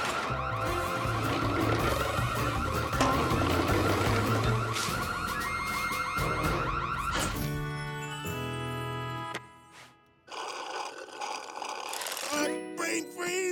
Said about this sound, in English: Ignore that. That's his alarm clock.